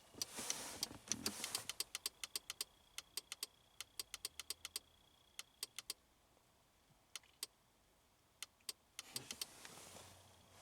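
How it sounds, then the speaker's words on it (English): A Pontiac Grand Am's hazard flasher relay clicks faintly and irregularly inside the car while the hazards are switched off, sharp isolated ticks at uneven intervals over a quiet cabin hum. "When it's off, the flasher just started making the clicking noise."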